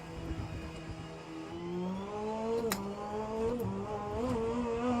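A V4 twin-turbo race car engine in the rFactor 2 racing game, a steady harmonic drone that climbs in pitch as it accelerates, with short shifts and dips, heard moderately close with no talking.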